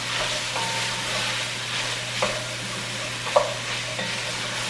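Curry vegetables sizzle in a pot with a steady soft frying hiss, broken by a few scraping clinks as a utensil stirs them close up, with no voices.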